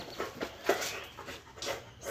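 A dog makes soft, brief whimpering or panting sounds several times in quick succession, close by and fairly faint, with no talking.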